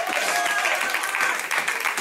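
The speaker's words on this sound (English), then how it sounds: "Clap your hands for Mike paying a mortgage." A church congregation applauds at a service, a dense, sustained patter of many hands clapping that fills the room without a break.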